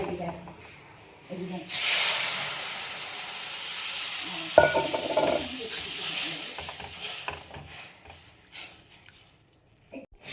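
Water poured into fried semolina in a pan with cardamom and salt for sweet semolina halwa: a sudden loud hiss and sizzle that gradually fades, with stirring scrapes and a voice heard at times.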